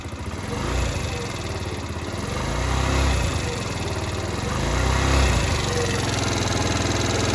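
A scooter engine runs after a valve adjustment with the air filter removed, its loud idle rumbling steadily and swelling with gentle throttle surges.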